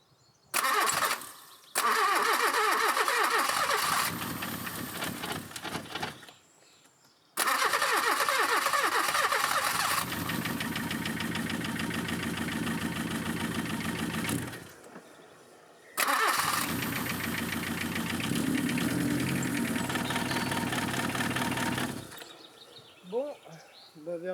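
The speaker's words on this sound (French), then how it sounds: "Allez c'est parti, on va démarrer." A Peugeot 205 with a damaged engine is started several times: three long, loud stretches of cranking and rough running, each broken off by a sudden silence, recorded close by.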